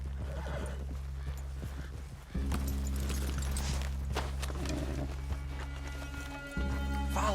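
Horses in Red Dead Redemption 2 clip-clop and trot steadily over a loud low engine-like game rumble, with a whinny among the hoofbeats.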